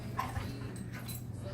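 Two dogs play together, giving faint short whimpers and yips over a low background hum, with quiet scuffling and no clear voices.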